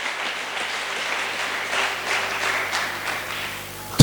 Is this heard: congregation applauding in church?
yes